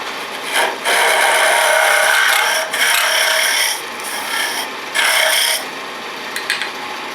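A woodturning gouge cuts into a spinning wooden box blank on a lathe, giving several rough, raspy scraping bursts of a second or two with short pauses between them, close and loud, with no talking.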